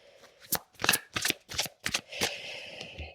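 Oracle cards are shuffled by hand in a quick run of close, crisp riffling bursts, about six or seven short flutters.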